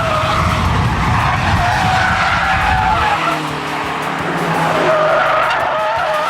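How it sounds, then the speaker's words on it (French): A Renault Clio 3 RS brakes hard from about 180 km/h, its tires skidding and squealing loudly, then the engine drone continues after the slide eases. "On est à 180 à peu près pour un freinage sur 150 mètres"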